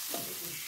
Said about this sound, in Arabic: الكفته كتشوي زوين بحال كتشوي على الفاخر